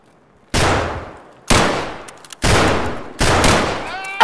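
Four loud gunshots in Escape from Tarkov, fired singly at uneven intervals of about a second, each with a sharp crack and a long, rumbling tail.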